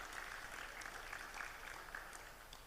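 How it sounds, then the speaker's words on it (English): Delegates at an international publishers' congress applaud a lecturer being introduced, a soft, distant patter of many hands that carries on evenly. "Please give a round of applause to Mr."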